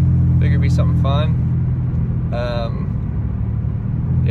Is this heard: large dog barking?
no